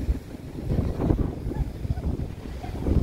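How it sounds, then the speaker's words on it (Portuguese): Cold wind gusting over the microphone on the beach at Viña del Mar, Chile, a steady low rumble with buffeting bursts and no voices. "Vento gelado."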